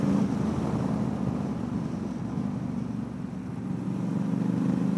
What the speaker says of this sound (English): But I just love these Bonneville engines, especially with a good exhaust.